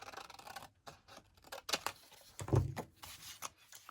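Scissors cutting a paper book page for a journal, several short crisp snips and scraping cuts close to the microphone, irregularly spaced with quiet pauses between.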